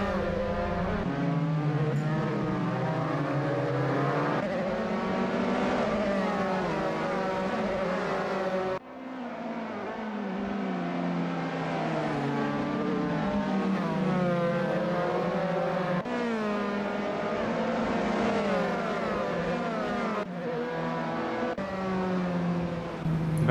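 Dallara F317 formula race cars in a sim racing game at the Greifswald track, engines droning and revving steadily with gear-change dips, loud and continuous as the cars run down the start-finish straight.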